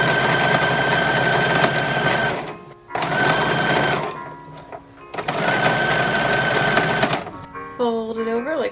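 A domestic sewing machine stitches a ruffle and binding onto the neckline of an 1880s-style infant's dress, running in three fast whirring bursts with brief pauses, close and loud, followed by a short squeaky sound at the end.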